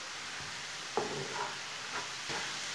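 Whole spices, including coriander seeds and cumin, being stirred and fried in a pot over medium heat, a steady close hiss and sizzle broken by a few scrapes of the spoon.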